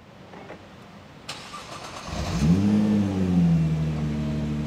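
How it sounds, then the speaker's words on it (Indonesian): The six-cylinder engine of a 2023 Nissan GT-R Nismo Special Edition cranks with a brief whir, then fires and swells into a loud, smooth, deep idle that settles and holds close by, with no talking. "Suaranya tuh suara 6 silinder bulat ya."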